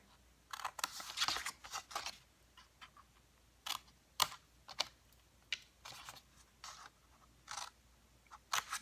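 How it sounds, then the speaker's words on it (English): Scissors snip through paper and tag card to cut off excess triangles, a series of sharp, close, irregular cuts with quiet pauses between, no talking. "So I'm cutting on the outside triangle, so the bigger one."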